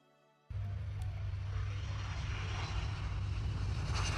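Engines of a Kawasaki C-2, a modern Japanese military transport aircraft, burst in after half a second of quiet and hold a loud, steady, close roar to the end.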